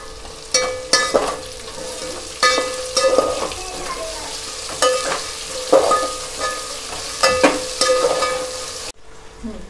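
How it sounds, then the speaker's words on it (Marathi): Potatoes frying and being stirred in a pan for veg biryani, with repeated scraping stirs and clinks over a steady sizzle, fairly close, and the sound cuts off near the end. "आता आपण ॲड करूया बटाटे"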